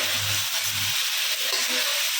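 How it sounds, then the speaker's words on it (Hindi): Chicken fries in a pan with ginger and chilli, a close, continuous sizzle with low scraping stirs pulsing twice early on. "चिकन को भी इसके अंदर अच्छे से भून के लेंगे"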